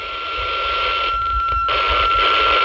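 A handheld two-way radio with squelch opened, pouring a loud, steady hiss of static from its speaker with a faint constant tone, brief dip midway, then continuing.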